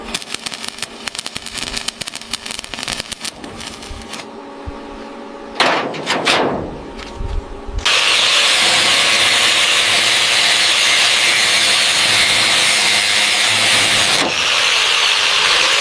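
Welding on a new rocker panel of an old Saurer bus: a long loud continuous crackling hiss with brief sharp bursts and clanks before it, close and dominant, no voices.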